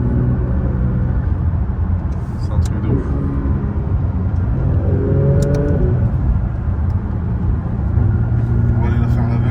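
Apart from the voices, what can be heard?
Porsche 992 GT3 RS engine revving while driving in Paris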